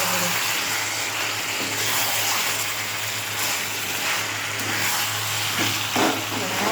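Spiced curry with chili powder sizzling as it is sautéed in a pan: a continuous loud frying hiss with faint stirring scrapes throughout.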